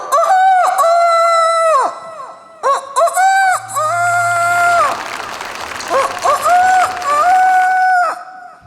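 At an Onam celebration, several loud, drawn-out rooster crows ring out up close, broken by quick clucking bursts, with a noisy wash like applause swelling in the middle.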